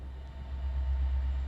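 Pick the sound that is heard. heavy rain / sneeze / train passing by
train passing by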